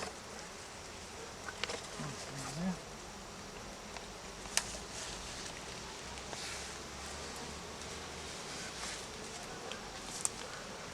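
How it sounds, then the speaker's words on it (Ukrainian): A honeybee swarm being poured into a hive box, a faint steady buzzing hum with soft rustling and a few light knocks, quiet and close. "І зараз будемо сипати сюди рій."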